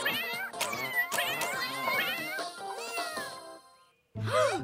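A cartoon cat meows repeatedly in a lively, close run of calls that break off briefly and return with one more loud cry, with no speech over it.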